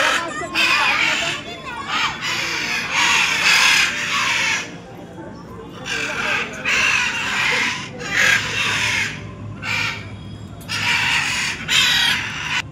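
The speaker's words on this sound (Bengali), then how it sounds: "এই পাখিগুলোর নাম ম্যাকাও" Macaws at a mini zoo give loud, harsh, raspy squawks in repeated bursts with short pauses, close by, while other birds and people talk faintly in the background.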